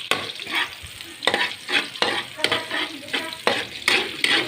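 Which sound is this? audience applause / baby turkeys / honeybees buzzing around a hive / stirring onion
stirring onion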